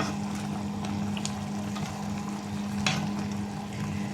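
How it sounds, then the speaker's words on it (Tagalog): Chicken feet boil in a pot that bubbles and simmers steadily with soft popping and gurgling, close by, over a low hum, with no talking. "kumukulo na"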